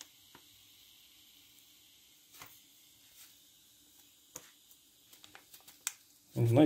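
A flameless heater warming an MRE beef stew ration hisses faintly and steadily up close, with a few soft clicks and taps and a loud thump at the very end.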